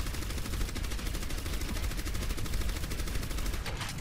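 Orisa's minigun in Overwatch firing nonstop, a rapid, even stream of shots with a steady mechanical rhythm that runs unbroken and loud from start to end.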